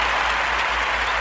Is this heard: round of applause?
yes